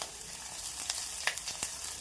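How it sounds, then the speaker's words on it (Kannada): Curry leaves drop into hot oil for a tomato curry, giving a brief close sizzle: a steady hiss broken by several sharp crackles and spits. "ಕರಿಬೇವು ಹಾಕ್ತಿದ್ದೀನಿ. ಸ್ವಲ್ಪ ಫ್ರೈ ಆಗಲಿ."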